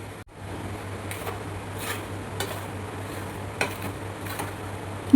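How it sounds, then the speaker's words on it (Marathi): Spices being stirred and mixed into a homemade pickle, with a series of spaced scrapes and clinks of a utensil against the pot, close and fairly soft over steady background hum. "सर्व मसाले व्यवस्थित आता मिक्स करून घेऊया."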